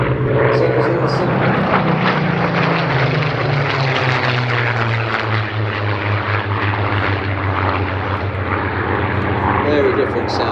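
A warbird fighter-reconnaissance aircraft with a Griffon piston engine flies at the Sywell airshow, its loud, steady propeller drone filling the whole stretch with a slowly shifting engine pitch, while voices talk faintly underneath.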